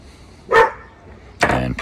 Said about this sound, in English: And Prince is barking at the neighbor